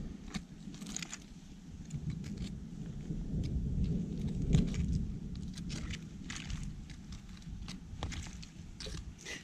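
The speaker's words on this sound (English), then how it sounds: "Yeah, that's all thunder that you're hearing." Low, distant thunder rumbles steadily throughout at a farm dump dig site, a soft continuous roll with faint patters and clicks on top, no talking.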